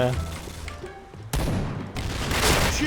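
Gunfire in the Point Blank online shooter game: sharp bursts of shots and booms, loud and dense from about 1.3 seconds on, with a player's voice heard over the start.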